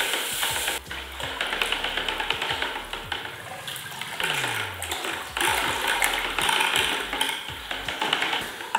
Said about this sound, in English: Then you dump her in. And give it a good stir.